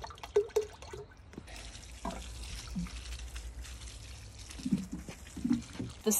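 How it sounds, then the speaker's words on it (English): Liquid fertilizer, comfrey tea and fish emulsion, poured onto a straw bale for growing tomatoes, making a soft splashing trickle with scattered drips, moderately quiet throughout. "I'm going to add a little bit of comfrey tea to the mix."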